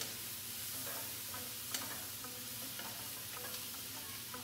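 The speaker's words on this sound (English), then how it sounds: "So we're going to now add our potatoes. Stir those in and toss them around." Potatoes sizzle in a frying pan for hash while being stirred and tossed, a soft constant frying hiss broken by light scraping taps.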